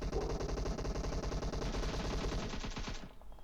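Rapid bursts of automatic gunfire in PUBG Mobile rattle continuously and loudly, a dense rapid-fire stream that cuts off abruptly near the end.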